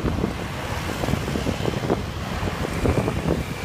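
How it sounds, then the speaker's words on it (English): Steady broadband wind rush buffets the microphone while cycle touring into a slight headwind on a busy road in Java, Indonesia, loud and continuous throughout with low rumbling gusts and no talk. "Slight headwind."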